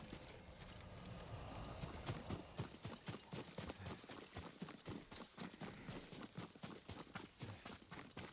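Horse hooves clip-clopping at a steady walking pace in the samurai video game Ghost of Tsushima, a quiet, regular run of hoof strikes heard alone throughout.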